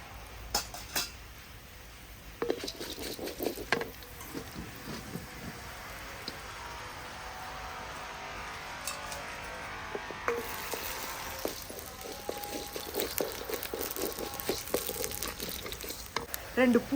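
Mustard seeds, urad dal and chana dal fry in a little refined oil, giving a steady close sizzle and crackle with scattered clinks of a pan and spoon.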